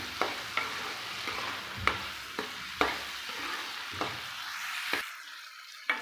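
Onion and tomato sauté in a pan for a coriander-mint thuvaiyal, a soft steady sizzle broken by regular sharp clicks of a spoon stirring against the pan.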